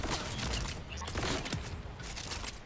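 Legendary Jakobs shotgun Hot Slugger firing in a video game, loud heavy blasts repeating in a steady rhythm with mechanical reload clicks between them, close and dense.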